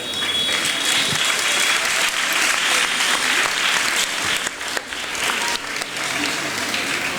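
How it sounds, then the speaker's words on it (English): Warm, sustained applause from a school audience for the cast and crew at an end-of-term event, a dense full-room clapping wash that stays loud and steady throughout, dipping briefly near the end. "Join us in giving a warm round of applause to our incredible cast and crew"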